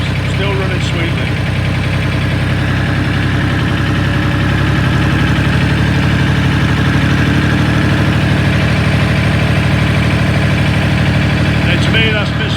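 A Ford 3000 tractor's diesel engine runs at 1,000 rpm, a constant close rumble with a slightly faster, even beat and no talking over it.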